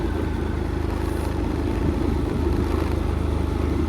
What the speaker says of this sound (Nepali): आज चाहिँ हाम्रो भाइले चलाइरहेको छ है स्कुटर।